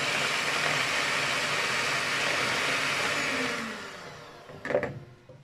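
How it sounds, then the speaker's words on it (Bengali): An electric hand beater runs at its lowest speed, whisking eggs to a foam with a steady whirring drone that fades, then stops with a brief clatter. "এবার একটি বিটার স্পিড একে করে দিয়ে ডিমটিকে ফোম করে নিচ্ছি।"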